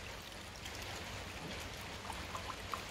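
Water poured into a blender holding pumpkin and mango juice, giving a steady soft trickling stream with a few small splashes toward the end, fairly quiet and without talk.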